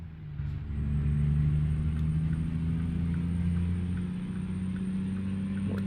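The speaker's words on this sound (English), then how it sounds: "this is a Rabbinicus engine pack, by the way, that I think sounds really," Truck engine from the Rabbinicus engine pack in American Truck Simulator, a steady deep rumbling drone with a low idle-like hum and a faint high whine, continuous and fairly loud with no talking.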